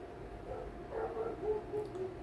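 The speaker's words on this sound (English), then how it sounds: "Did you hear my dogs on that one?" Faint dog barking and yipping in the distance, a short run of about five quick, thin barks over a quiet room background.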